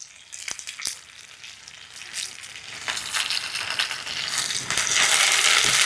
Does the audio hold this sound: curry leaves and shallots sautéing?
yes